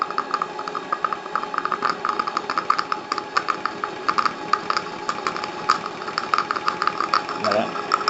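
A compound steam engine, the BR2032 built to Bernard Retif's plans, runs under steam with a fast, even mechanical chuffing beat over a faint hiss, while a voice speaks over it.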